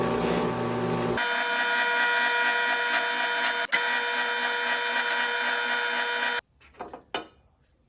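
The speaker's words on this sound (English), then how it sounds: "I'm gonna take my EGR cooler on my drill press. Got a little wire brush attachment here." Drill press spinning a wire brush attachment to scrub rust out of a Toyota FJ60 EGR cooler, a steady loud whir with a brief catch near the middle, stopping abruptly with a few light clunks afterward.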